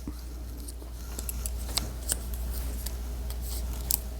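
Scissors cut through denim fabric in soft, intermittent snips and crunches over a low steady hum, fairly close and quiet.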